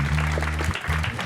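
An audience at a French televised show gives brief applause, a short burst of clapping mixed with a voice.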